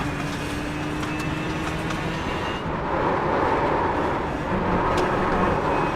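A Ford GTE race car in iRacing VR at Mosport runs under a steady engine drone, with a thin, continuous tire squeal through the first half before the engine noise swells louder.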